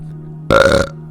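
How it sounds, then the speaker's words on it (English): A person lets out a single loud, close burp lasting under half a second, with a steady low hum before and after. "Man, I try to get a burp out."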